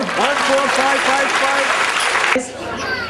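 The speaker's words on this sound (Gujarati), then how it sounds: "જો તાળી તો પાડો" Dense audience applause fills a Jain Pratishtha Mahotsav consecration celebration, with a voice speaking over the clapping before it drops away near the end.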